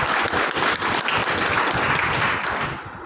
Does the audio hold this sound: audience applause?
yes